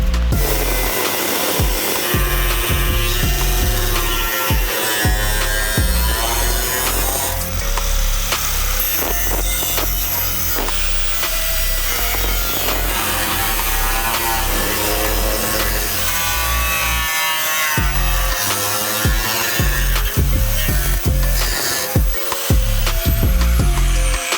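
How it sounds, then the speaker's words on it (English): Power tool cutting metal while fabricating turbo cooler brackets for a budget turbocharged Barra engine build; a loud, continuous grinding whine runs steadily throughout with no speech. "After cutting and more cutting, and then cutting some more"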